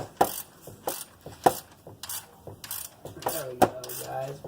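A ratchet wrench tightens a bolt while fitting a serpentine belt on a Nissan Pathfinder: close, rhythmic metallic clicking in short bursts, with sharp knocks about every second and a half.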